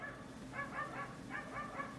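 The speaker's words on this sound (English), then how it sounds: "Sorry, whose dog is fighting outside?" Dogs barking and yipping outdoors in a fight, several bursts of sharp barks and whimpers at moderate distance over steady background noise.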